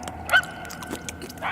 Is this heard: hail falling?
no